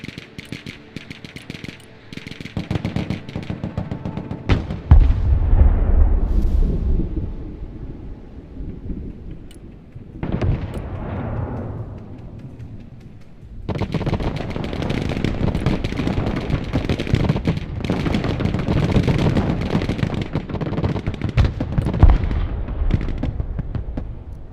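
.50 cal machine gun fire in the war game Broken Arrow comes in long, loud, sustained bursts of heavy rapid shots, mixed with booming blasts and rumbling battle noise, with short lulls between.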